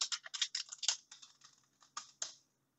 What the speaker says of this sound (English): this is a sample audio recording while I'm typing on my keyboard